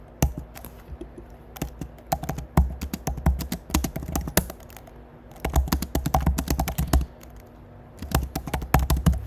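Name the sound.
typing on a computer keyboard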